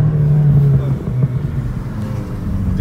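BMW M6 engine rumbling loudly up close with a deep steady drone that rises and falls as it is revved, though distinct exhaust pops and bangs are not clearly picked out.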